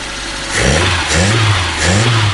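A barn-find VW Polo fitted with a new fuel tank and carburetor revs up and down twice, its engine running slightly rough, with a close, loud mid-pitched roar and rising and falling tone.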